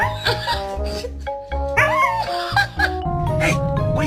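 A dog yips, whimpers and barks in quick, close bursts, mixed with voices nearby.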